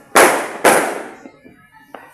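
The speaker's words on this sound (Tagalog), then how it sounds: "With the fireworks" New Year's Eve fireworks at midnight: two sharp, loud bangs in quick succession, each trailing off, followed by smaller faint pops and a distant crack.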